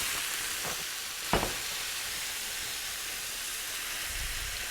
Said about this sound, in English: So we're gonna saute this.